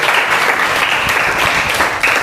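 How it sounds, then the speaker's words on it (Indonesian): An audience breaks into loud, steady applause, a dense wash of clapping hands that stays close and continuous throughout without any talk over it. "Tepuk tangan dulu untuk Puspa."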